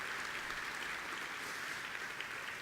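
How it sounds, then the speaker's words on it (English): Audience at a business gathering applauding, a steady wash of many hands clapping, even and fairly distant, continuing without pause. "Let's give her a round of applause"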